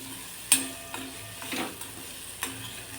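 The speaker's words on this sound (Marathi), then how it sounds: "छान ह्या यामध्ये मिक्स करून घ्यायच्या आहेत मिरच्या" Green chillies stirred with turmeric and salt for a quick chilli-lemon pickle, soft scraping and a few sharp clinks of a spoon against the bowl, fairly quiet with no voices.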